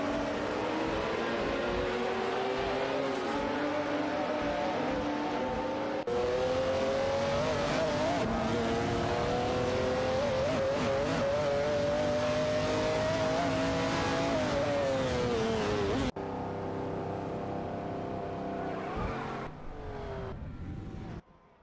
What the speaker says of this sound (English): Waziri Sky has successfully moved up to 16, after executing a clean overtake on N29 Kia.E